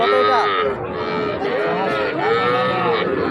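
Cattle at a village cattle market where Sahiwal and local heifer calves are sold, loud close mooing in long drawn-out calls one after another, with faint voices in the background.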